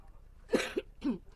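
Three quick coughs close by, two sharp bursts in a row followed by a slightly longer, rougher one, in an otherwise quiet room.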